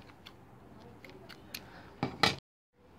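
Scissors snip through sewing thread on a handmade soda pop-tab handbag, a few light ticking cuts followed by two louder close snips, then near silence.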